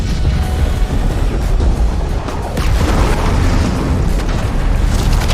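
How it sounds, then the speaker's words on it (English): A wave of bombs exploding in a film scene, a loud continuous roar of rumbling blasts and debris that keeps going throughout without a break. "the fighters dropped another wave of bombs"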